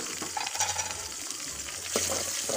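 Ginger garlic paste, tomatoes and chili fry in a pan, giving a steady sizzle with soft scraping stirs and a few brief clatters of the spoon.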